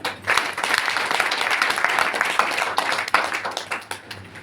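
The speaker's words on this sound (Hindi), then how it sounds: "एक बार अपने लिए जोरदार तालियां।" Dense audience applause fills the room, steady and loud, many hands clapping together for several seconds before tapering slightly at the end.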